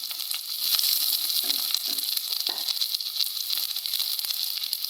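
Green mango, green chilies and shallots frying in coconut oil in a pan, a continuous bright sizzle with a few soft stirring knocks early on, close and unaccompanied by speech.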